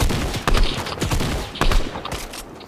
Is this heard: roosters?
no